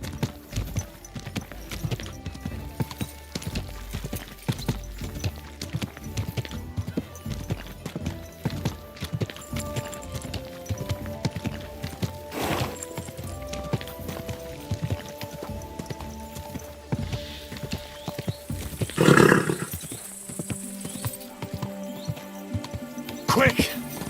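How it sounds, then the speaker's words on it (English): Horse hooves clip-clop in a steady rhythmic gait in Kingdom Come Deliverance 2, with a sharp crack or thud partway through, while speech and game sounds continue under the hoofbeats. "Easy, good horse."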